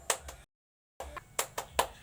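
Children clap a spirit clap in a classroom, a few sharp claps in an uneven rhythm with a short silent break, fairly faint.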